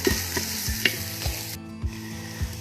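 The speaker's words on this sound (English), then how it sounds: "I'm gonna add in 3 tablespoons of butter and get that melted down because I'm gonna make a roux." Butter melting and sizzling in the pot of an Instant Pot, a faint crackling fry. Soft, evenly spaced low thuds and clicks repeat underneath the sizzle, and no one talks.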